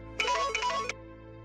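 A mobile phone ringtone plays a short melodic burst of about three chimes, clear and close, then stops, with no talk over it.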